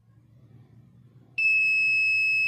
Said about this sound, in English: red LED will on as well as buzzer also on.